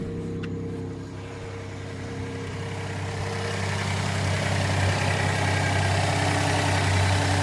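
A 2017 Kia minivan's engine runs steadily at idle, a loud, low rumbling drone that grows slightly louder and rougher over several seconds, with no voices.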